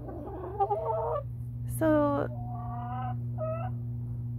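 Backyard chickens cluck and squawk inside a small coop built for six birds, several loud calls rising over a steady low hum, with a brief spoken word near the start.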